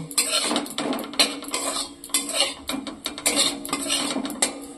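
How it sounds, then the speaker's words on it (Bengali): Egg and soybean curry with tomato being stirred and fried in a pan, with a utensil scraping and clattering against the metal in quick, irregular bursts, close and fairly loud, with no voices. "এই জলের মধ্যে আমি একটু নাড়াচাড়া করে ভেজে নেব"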